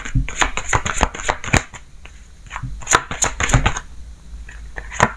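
Tarot cards being shuffled in quick, crisp bursts of riffling and slapping, close and fairly loud with short pauses between flurries.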